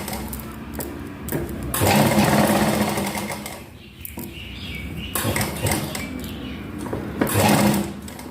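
A sewing machine runs a basting stitch along a garment neckline, whirring loudly in close bursts separated by short pauses and handling clicks, with no voice heard.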